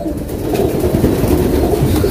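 Male pigeon fluttering and struggling in a person's hand, producing a continuous close rustle of flapping wings and feathers with no talk.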